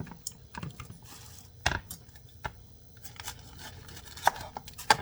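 Outer layers of an old banana blossom being cut off, giving sparse close snips and crisp cutting clicks with a few sharper ones near the end, and no voice.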